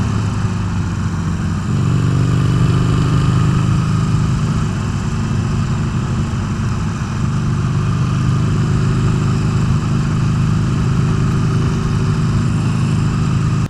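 A 2019 Harley-Davidson Sportster Iron 883 XL engine rumbles loud and steady while riding, a deep continuous drone with slight swells as the throttle changes.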